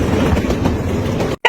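A speeding train crosses a bridge with a loud, continuous rumble and rhythmic clatter of wheels on the rails, close by, before the sound cuts off abruptly near the end.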